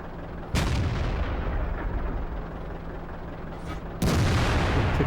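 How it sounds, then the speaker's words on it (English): Two heavy artillery blasts from the Waffenträger auf Pz. IV tank destroyer in World of Tanks, one near the half-second mark and another about three and a half seconds later, each a loud booming report over a steady rumbling battlefield background. "I don't know why I'm taking a blind shot on this"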